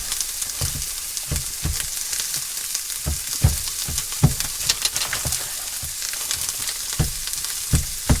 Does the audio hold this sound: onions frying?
yes